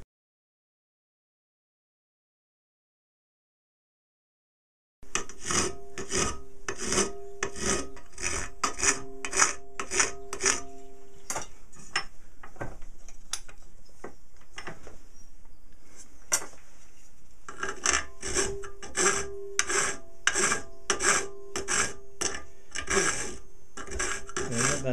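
Metal is being filed in a bench vise with a rolling stroke, giving rhythmic rasping strokes up close, a steady back-and-forth series with a short pause midway, no talk.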